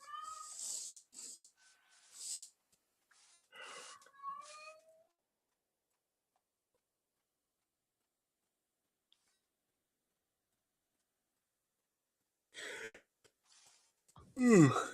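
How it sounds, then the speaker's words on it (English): A house cat meows and wails several times in a quiet room at night, a few drawn-out cries early, then a long silence before more close, loud yowls at the end. "Well, be quiet, you stupid cat."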